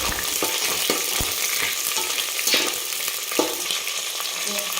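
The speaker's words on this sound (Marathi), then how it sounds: "आपण याच्यात हिरवी मिरची टाकून घेऊ त्याला पण एक मिनिटभर आपल्याला परतून घ्यायचं" Green chillies sauté in hot oil in a pan for a chicken thali, a steady close sizzle with a few sharp clinks and stirring scrapes throughout.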